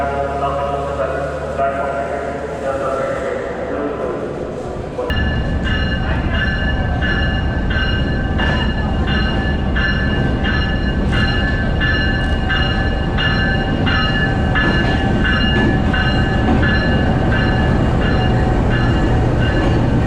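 The Thal Express stands at a platform in Rawalpindi station. A loud low rumble of rail cars shifts abruptly into a sustained, droning tonal hum, with voices in the background.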